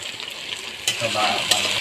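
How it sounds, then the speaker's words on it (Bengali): Vegetables for fried rice sizzle and crackle in a pan over low heat, a steady frying hiss with a couple of sharp stirring clinks. "আমি এখন একটু হালকা ভেজে নিব। এগুলো ভাজা হোক, আস্তে আস্তে ভাজবেন।"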